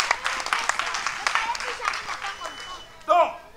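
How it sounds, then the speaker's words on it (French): Applause from an audience at a stand-up comedy show. Scattered clapping runs under a speaking voice and ends in a short burst of a cheer or laugh. "On applaudit pour les femmes."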